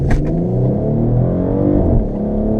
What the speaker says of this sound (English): These downshifts are crisps.